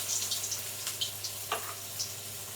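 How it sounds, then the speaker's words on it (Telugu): Urad dal vada batter is slipped by hand into hot oil, giving a soft, steady frying hiss with a few brief splashy bursts, close and alone with no talk. "డైరెక్ట్గా ఇట్లా నూనెలో వేసేస్తాము."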